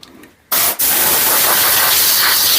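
Compressed air blasting dust and muck out of a Volvo 740 speedometer housing, a loud steady hiss starting abruptly after a quiet moment, with a brief pause before continuing.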